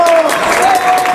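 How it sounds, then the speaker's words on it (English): Fans clap at a match in a steady wash of applause, loud and close, with a voice speaking over it. "A lot of applause from her fans here behind me."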